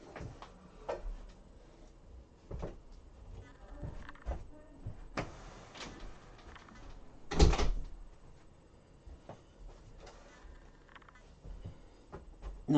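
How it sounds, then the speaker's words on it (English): A door is pushed shut indoors with one loud close, followed by quieter handling knocks and small clicks in a quiet room. "Let me just shut my door."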